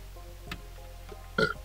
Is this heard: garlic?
no